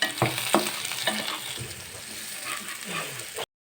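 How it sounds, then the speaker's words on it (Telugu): Onions fry in hot oil for paneer butter masala, making a steady sizzle broken by a few sharp spatula strokes against the pan, close and fairly loud. "తర్వాత ఆనియన్స్ వేసుకోవాలి ఆనియన్స్ వేగిన తర్వాత ముందుగా కట్ చేసి పెట్టుకున్న రెండు టమాటాలను వేసుకోవాలి"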